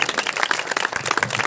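An audience applauds a mimicry performer at a university auditorium event, dense steady clapping from a crowd, close and lively, with no voices above it.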